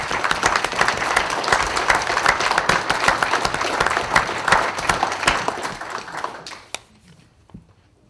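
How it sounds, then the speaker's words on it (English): Audience at a panel session applauds a veteran with loud, dense clapping that holds for about six seconds, then tapers to a few last scattered claps before falling quiet. "we should give him a round of applause for his service"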